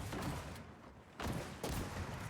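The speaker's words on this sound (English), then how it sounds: "As both players now standing off against each other. Exchanging shots." Gunfire exchanged between two players in a 1v1 video game duel, heard as dense bursts of rapid shots broken by brief lulls, loud and close.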